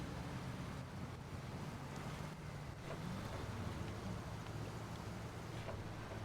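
An Expeditions vehicle rumbles steadily across rocks on a shoreline in Lost Island, its low drone continuous and close, with wind- and surf-like noise washing over it throughout.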